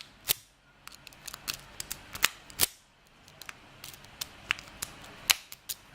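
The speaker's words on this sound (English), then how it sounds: "You just put the pick inside and" Metal clicks and sharp snaps of a lock pick being raked through a Burg Wächter padlock, irregular crisp ticks clustering then bursting into louder clacks as the shackle pops, close up with no talk.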